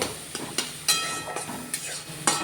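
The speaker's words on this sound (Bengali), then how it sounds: "এটাকে অবিরতই নাড়তে হবে, যতক্ষণ পর্যন্ত এটা মিহি হয়ে" Chhena being stirred nonstop in a pan for sandesh, with a spoon scraping in quick, regular strokes about twice a second over a low, steady sizzle, close and moderately loud.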